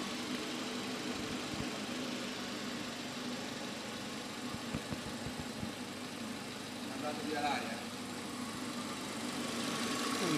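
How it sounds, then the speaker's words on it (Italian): Steady hum of a Renault Clio 1.2 three-door engine idling nearby with the hood open, a continuous rumble with faint knocking, while voices talk quietly underneath. "Il motore gira bene"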